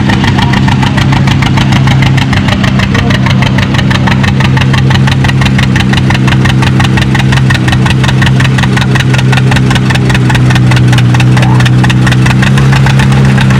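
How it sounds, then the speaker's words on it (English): A John Deere D two-cylinder tractor pulling at a tractor-pulling show, its engine pounding out a loud, steady, rapid popping beat from start to finish, heard up close. "here's another for the 2-cylinder fans. A John Deere D."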